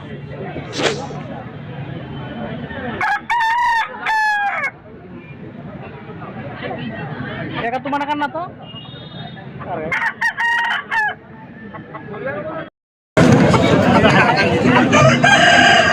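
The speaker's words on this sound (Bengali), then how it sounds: "এটাও একটা দেশি মোরগ" Roosters crow loudly and close by at a poultry market, two long crows with scattered clucks and other fowl noises, and people talk around them before a burst of loud noise.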